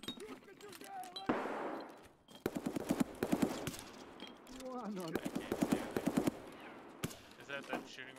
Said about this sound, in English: Is that them shooting right now? Loud.